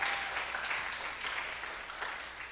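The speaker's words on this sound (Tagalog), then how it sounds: "Palakpakan natin ang Panginoon" A church congregation claps together, dense continuous applause that stays fairly even and slowly fades over a couple of seconds.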